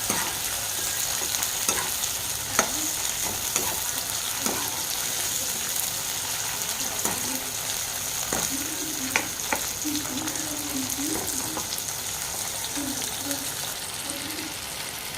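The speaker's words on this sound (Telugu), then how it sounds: "ఇప్పుడైతే టమాటాలు వేసుకుందాం మనము. టమాటాలు వేసుకొని బాగా కలుపుకుందామండి." Tomatoes frying and being stirred in a pan for a chamagada pulusu, giving a continuous sizzling hiss broken by occasional spatula scrapes and knocks, close and steady throughout, with a voice briefly murmuring in the background.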